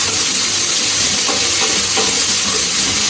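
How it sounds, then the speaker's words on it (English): Onions and shallots sizzle and crackle loudly in a hot pan, a steady frying hiss with occasional soft scrapes of stirring and no talk. "Keep on stirring, make sure you don't burn it."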